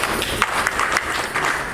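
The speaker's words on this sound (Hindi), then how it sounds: "अगर आप स्वीकार करते हैं तो एक बार छोटी सी ताली बजा दें।" Wedding guests giving a short burst of light clapping during the vow ceremony, a brief, moderately loud patter of hands with a murmur of voices behind.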